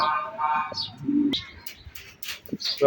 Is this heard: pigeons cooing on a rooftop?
yes